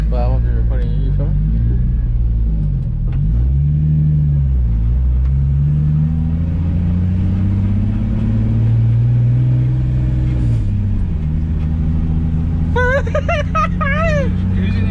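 Nissan 350Z driven on the road after an engine reassembly, its engine droning steadily with rising and falling revs through the cabin, loud and continuous, with people talking over it and a brief burst of higher chatter near the end.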